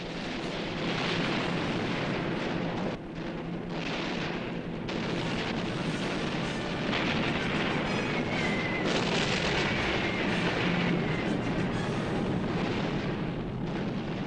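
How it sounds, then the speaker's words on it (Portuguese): Continuous roaring barrage of German anti-aircraft guns defending oil fields in World War II, heavy rumbling blasts blending into a dense, loud wall of gunfire with no pauses. "Mas a artilharia alemã derrubava os aviões um a um."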